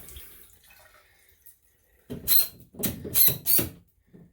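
A Delta single-knob shower/tub faucet opened with the water supply off to bleed the pressure: a few bursts of hissing, sputtering water and air, close by, following near silence and faint background noise.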